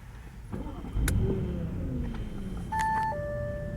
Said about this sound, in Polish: odpalamy silnik